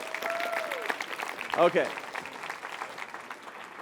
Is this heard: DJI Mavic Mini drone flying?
no